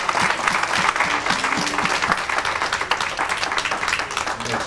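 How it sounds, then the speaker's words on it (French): A church congregation at a French-speaking service applauds together, a loud, sustained burst of many hands clapping with crowd murmur mixed in, continuous and fairly close. "on nous applaudit le Seigneur pour ça."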